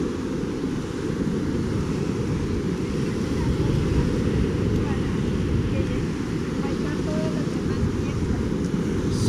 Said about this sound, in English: The water looks really rough out there.